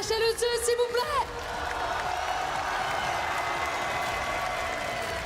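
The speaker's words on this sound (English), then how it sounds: "Mesdames et messieurs, on peut applaudir HLE2, s'il vous plaît." A crowd breaks into sustained applause with some cheering after a brief announcement at a Dota 2 esports event, the clapping steady and dense for several seconds.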